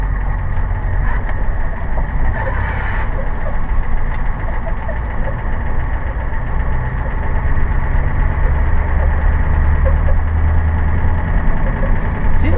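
A Ford F250 truck's 7.3 IDI diesel engine rumbles steadily with a low, knocking idle and a clattering mid-range throb, close and continuous throughout.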